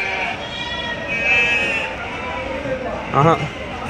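Nellore Judipi sheep in a large lot bleat amid a busy livestock market, with one clear bleat rising near the end above a steady background of crowd chatter and people talking.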